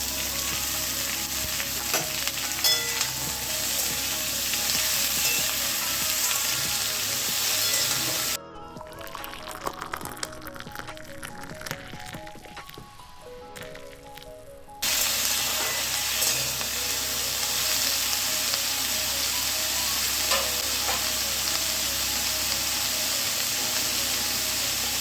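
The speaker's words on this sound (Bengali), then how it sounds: "ঢাকনা খুলে পুঁই শাক থেকে যে জল বেরিয়েছে সেটা ভালো করে নেড়ে চেড়ে ওর মধ্যে দিলাম জল," Malabar spinach and pumpkin curry sizzles and bubbles in a pan, a loud continuous fry with scraping stirs. The sound drops to a quieter, muffled stretch in the middle before the full sizzle returns.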